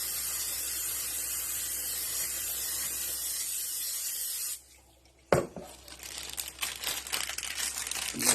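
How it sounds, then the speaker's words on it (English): Butter-flavored cooking spray hisses steadily from a can into a pie crust, a close, continuous spray that cuts off and gives way to light crinkling and handling noises. "I'm going to use this butter-flavored cooking spray."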